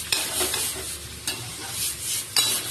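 Tender cauliflower frying in a pan, a soft constant sizzle with three sharp scraping stirs of a spatula, close up and without talk.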